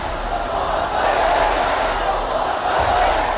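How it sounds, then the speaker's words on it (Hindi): Large crowd at a Hezbollah rally in Beirut, a dense roar of many voices chanting and shouting together, loud and sustained with rising surges. "लेबनान की राजधानी बेरूत में ये भीड़ देखिए"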